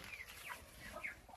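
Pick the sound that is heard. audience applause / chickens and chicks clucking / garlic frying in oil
chickens and chicks clucking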